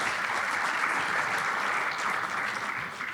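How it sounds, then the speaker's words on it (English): An audience at a Guam Community College defense forum applauds steadily and densely for a few seconds, tapering slightly at the end. "How about a hand of applause, round of applause?"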